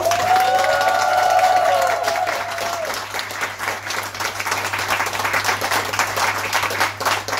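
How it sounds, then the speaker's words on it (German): An audience at a short-film evening with Erwin Leder applauds the filmmakers, with warm, dense clapping and a few light cheers that hold steady before thinning slightly; a brief sustained tone sounds near the start over a low background hum. "Einen riesengroßen Applaus trotzdem nochmal für alle Filmemacher"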